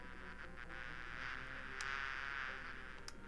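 A steady insect-like drone of bees buzzing in the point-and-click game Discworld 2, a continuous hum running evenly throughout with a few faint clicks.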